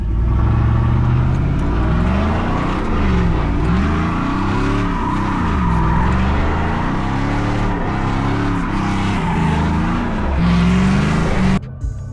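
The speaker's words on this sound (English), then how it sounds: "It's gonna sound so good when you're hitting the throttle." A loud GMC truck engine with Scat Pack aftermarket mufflers revving repeatedly, the deep exhaust note rising and falling in rhythmic swells, close and dominant before cutting off at the end.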